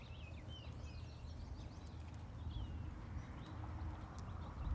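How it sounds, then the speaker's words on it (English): A horse walks around an arena during a pentathlon warm-up, its hoofbeats a soft, steady clip-clop under a constant low rumble, with faint birdsong far off. "Now we are ready to ask our horse to walk forward."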